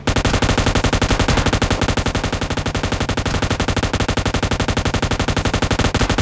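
Automatic gunfire in the mobile shooter PUBG Lite: a loud, continuous rapid-fire stream of shots at an even rhythm, close and unbroken for about six seconds with no talk.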